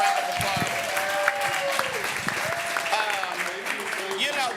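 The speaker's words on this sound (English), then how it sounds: "let's give our master class panelists a round of applause" Audience applauding panelists at a live money-matters masterclass event, a sustained wash of clapping from a crowd lasting the whole stretch, with an amplified voice speaking over it.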